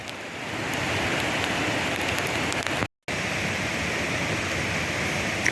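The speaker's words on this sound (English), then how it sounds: "Light rain falling." Light rain falls steadily on a forest trail in Arizona's Tonto National Forest in early September, making a constant soft hiss that briefly cuts out and resumes.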